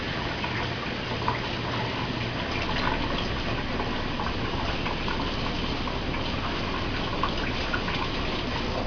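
Tap water runs steadily while someone washes flour off their hands in a home kitchen, a constant close gushing stream with no breaks and no speech.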